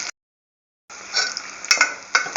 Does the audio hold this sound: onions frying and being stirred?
yes